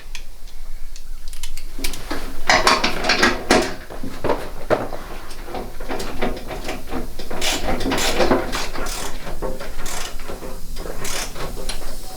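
Repeated mechanical clicking and ratcheting from a wrench tightening the last bolts during exterior reassembly of a Jeep YJ, close and steady throughout with irregular bursts.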